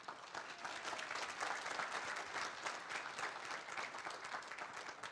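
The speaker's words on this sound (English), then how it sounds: "Let's give everyone another round of applause." Steady round of applause from an audience at a centennial celebration, many hands clapping in a dense, even patter, moderately distant and sustained for several seconds with no voices over it.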